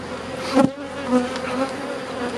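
Honeybees buzz around an open hive during a spring colony inspection, a close, steady droning hum with individual bees swelling louder as they pass near.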